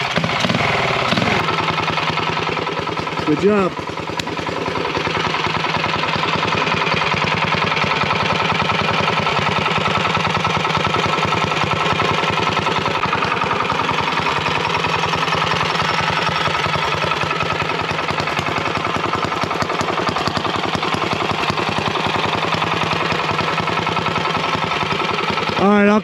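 A small mini-bike engine, freshly filled with break-in oil and gas, runs steadily at a loud buzzing idle after a brief start, close by outdoors, with a short spoken remark near the beginning.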